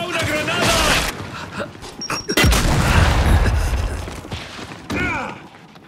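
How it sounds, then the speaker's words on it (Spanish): A grenade explodes in Gears of War 5 multiplayer, one sharp, heavy blast midway through amid gunfire and combat noise, with character voices shouting around it. "¡Va una granada!"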